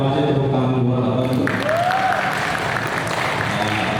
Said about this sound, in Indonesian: terima kasih tepuk tangan buat Abang